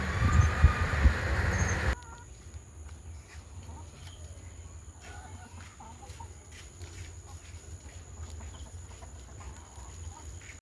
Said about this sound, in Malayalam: ഇതാപ്പോൾ ഇവിടുത്തെ പെടക്കോഴികൾ.